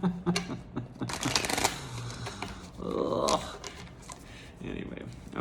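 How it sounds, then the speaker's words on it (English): A deck of tarot cards is shuffled close up, giving crisp riffling bursts and soft flicks, with a person talking over and between the shuffles. "So here I am shuffling. You can hear it, right?"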